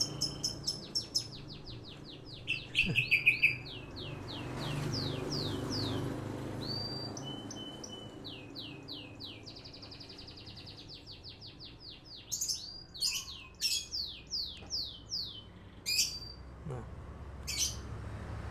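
A canary sings repeated trilled phrases, joined by other songbirds calling back and forth in an afternoon bird-keeping setting, with bursts of chirps and rapid tweets over a low background hum; no voices.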